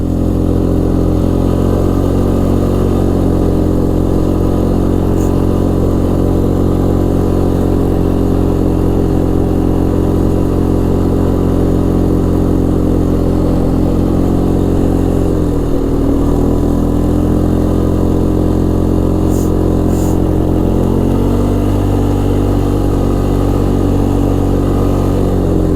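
A 2006 Polaris Sportsman 500 EFI ATV on a ride, its engine humming loud and steady at a constant pace close up, with a brief dip and recovery in revs partway through.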